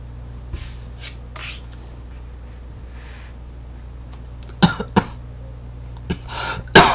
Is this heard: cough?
yes